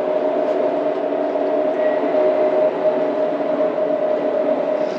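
Steady, continuous rumble and hum inside a Chinese bullet train in motion, with a faint tonal whine running throughout and no voices.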